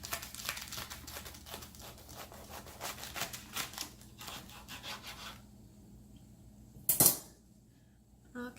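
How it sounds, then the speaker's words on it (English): A very large knife works through an artichoke, starting with a dense run of rustling, crunchy scraping strokes and ending after a pause with one sharp, bright clack as the blade hits the board. "I'm gonna chop this in half real quick"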